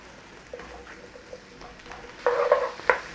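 Onions frying in a pan and being stirred, a soft steady sizzle with scraping stir strokes, growing louder and more vigorous near the end, close by with no talk.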